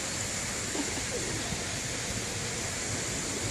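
Pigeons coo softly in a park in the Anyang area, low repeated calls sitting under steady broadband ambient noise with no clear voices.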